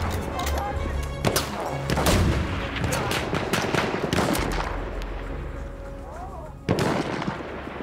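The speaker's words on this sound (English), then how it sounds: "Being halted by our artillery barrage." An artillery barrage in Battlefield 1 thunders as repeated heavy blasts and crackling gunfire, loud and dense throughout, with in-game voices calling out beneath the explosions.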